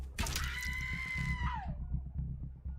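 A shrill scream from a Night Of The Dead zombie survival game rings out loud and sustained for over a second, its pitch sliding down at the end, over a constant low game rumble.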